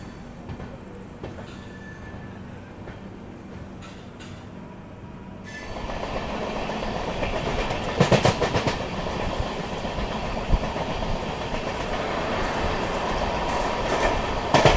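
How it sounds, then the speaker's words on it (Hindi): The Sairang Rajdhani Express rolls along the tracks before Ghaziabad while overtaking the Suheldev Express. A steady rumble and clatter becomes louder and denser partway through, with occasional squealing from the wheels and no voices. "फिलहाल अपनी ट्रेन गाज़ियाबाद के पहले सुहेलदेव एक्सप्रेस को ओवरटेक कर रही है"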